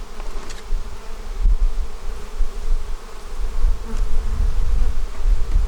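Honey bees being shaken into a hive box give off a dense, loud, continuous buzz close by, with the swarm's drone rising and falling steadily and no voices.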